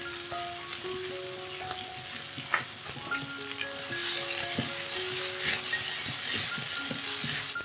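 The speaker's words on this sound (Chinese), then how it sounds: "再加入豆瓣酱、素蚝油、酱油、盐、糖，翻炒均匀" Vegetarian mince stir-fried in a wok with chili bean paste, vegetarian oyster sauce, soy sauce, salt and sugar gives a steady close sizzle with scraping stirs, growing louder in the second half, over soft tonal background sounds.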